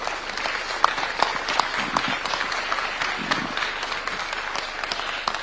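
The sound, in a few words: audience applause and hand clapping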